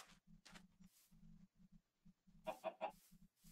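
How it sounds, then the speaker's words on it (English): A chicken in Minecraft clucks in short, faint, quick bursts, a soft rhythmic series of low clucks with a few brighter squawks near the end, with no talk. "Oh, there's a chicken."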